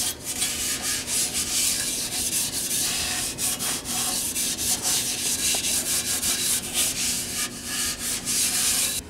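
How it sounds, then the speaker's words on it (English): A Brillo pad scuffing the metal surface near a Toyota Sequoia's catalytic converter before painting, a close, steady scratchy rubbing in rapid repeated strokes lasting throughout with no talk. "I'm just gonna scuff up the area you're gonna put the paint on"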